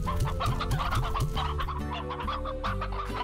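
Hen hen chickens in the video game Slime Rancher cluck busily in a dense, rhythmic flurry of short overlapping calls over a thick, steady game background, loud and close, with no speech.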